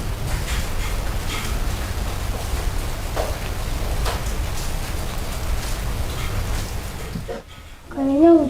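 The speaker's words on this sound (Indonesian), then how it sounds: "Kayaknya hujan deh." Rain falls steadily as a dense, even hiss close by, continuing for several seconds before cutting off abruptly, followed by a brief spoken voice.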